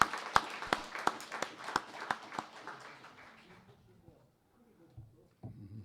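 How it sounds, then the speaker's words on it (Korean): Sharp, evenly spaced claps from a congregation welcoming a newcomer at a Sunday service ring out quietly for about three seconds, then fade. A brief murmur of voices follows. "힘찬 박수로 환영하겠습니다"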